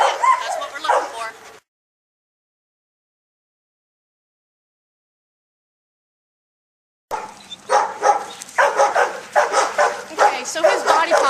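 Dog yips, barks and whimpers playfully during an off-leash walk, in two bursts separated by a stretch of silence, with a person speaking in between.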